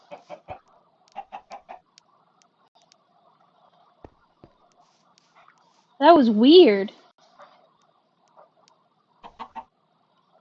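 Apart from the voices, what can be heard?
chickens clucking in Minecraft video game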